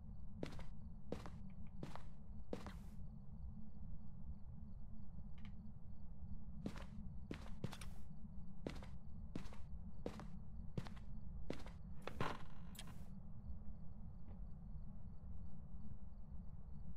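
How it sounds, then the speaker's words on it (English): Ghost footsteps in the horror video game Phasmophobia, a series of sharp, evenly spaced thuds in two runs over a steady low hum. The steps sound fairly close and distinct, with no talking. "I keep hearing footsteps. Is that you up there?"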